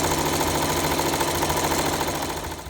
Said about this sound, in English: sew down the corner again